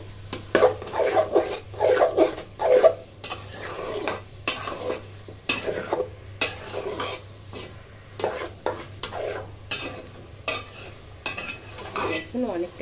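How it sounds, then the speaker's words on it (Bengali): Dried chillies fry in a pan for a sweet-sour mango pickle, with a soft sizzle beneath repeated rhythmic scraping and clattering of a spatula against the pan's metal surface. "আমি এখানে গোটা কয়েক মরিচ দিয়ে দিলাম, শুকনা মরিচ। সঙ্গে করে ভাজতে থাকবো।"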